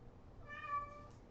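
A cat meows once, a drawn-out, mid-pitched call, faint and alone against a quiet room.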